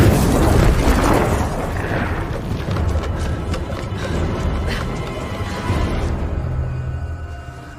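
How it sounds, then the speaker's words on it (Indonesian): Explosion blowing up a cave in the Wednesday series, a loud rumbling blast that fills the whole clip and slowly tapers off as the debris settles. "terlihat seorang datang dan meledakkan gua tersebut"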